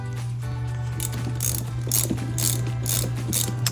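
Repeated rapid clicks of a 13mm ratchet wrench loosening the banjo bolt on a Ford Mustang EcoBoost rear brake caliper, close and crisp over a steady low hum.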